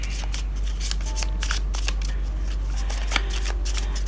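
Tarot cards being shuffled by hand in a steady series of crisp riffling and sliding bursts over a faint background hum, close and fairly quiet, with no speech.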